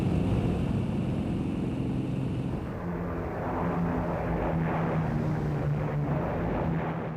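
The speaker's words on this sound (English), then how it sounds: "21 Swordfish torpedo bombers lifted off an aircraft carrier" Swordfish torpedo bombers lifting off an aircraft carrier at evening, a steady droning rumble of propeller engines with a low sustained hum, continuous and fairly loud throughout.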